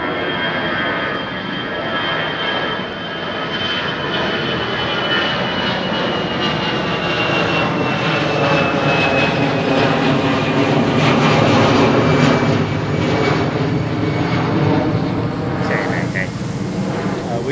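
A jet airliner departing Heathrow Airport roars steadily for the whole stretch, loud and close, with a broad engine rumble and a slowly falling whine, plus faint voices in the background.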